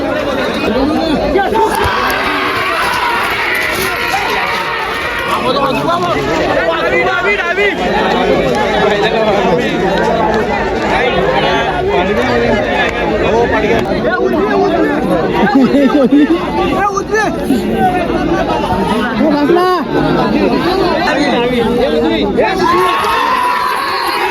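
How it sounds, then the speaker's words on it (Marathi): A large, dense crowd at a bullock cart race chatters and shouts continuously, a steady wash of many overlapping voices with occasional cheers rising out of the babble. "फुल गर्दीच गर्दी आहे खाली"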